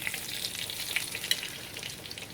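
Steak sears in a pan with thyme and rosemary, giving a close, steady sizzle with crackling pops and small spits over a continuous frying hiss.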